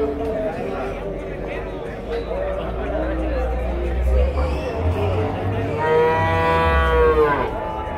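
A cow moos loudly nearby at a cattle market in Nueva Guadalupe, San Miguel, El Salvador, a long drawn-out low call, while people chat in the background.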